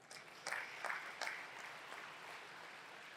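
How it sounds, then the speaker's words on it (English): An audience at a university convocation ceremony breaks into a brief round of applause. Soft, distant clapping in a large hall that swells quickly and then fades into the room's murmur. "May I have a round of applause?"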